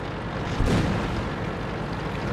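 A StuG III tank gun fires once in the World of Tanks video game, a single muffled boom over the constant loud rumble of engine and battlefield noise.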